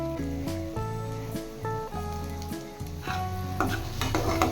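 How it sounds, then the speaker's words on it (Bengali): Chopped capsicum fries with spices in a pan, giving a steady, close sizzle with occasional stirring scrapes. A loud tonal musical background sits over it throughout. "দু থেকে 3 মিনিট মশলার সাথে ক্যাপসিকাম ভেজে নেব।"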